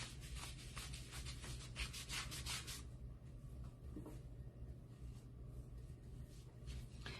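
Wax being rubbed off a wooden sign by hand, a steady close scratchy rubbing in quick strokes that eases off partway through and then continues more softly.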